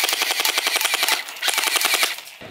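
A toy gel blaster assault rifle fires in a fast, steady rattle of sharp clicking shots. There is a brief break near the middle, then another rapid burst, all close and clear with no talk over it.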